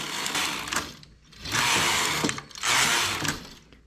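Knitting machine carriage running across rows while knitting a cuff, heard as three loud rasping mechanical sweeps in a row, each separated by a brief pause, close to the microphone with no voices.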